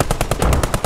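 Machine gun fire in the WWII shooter game Post Scriptum: a steady burst of about eight rapid, evenly spaced loud shots, alone with no talk.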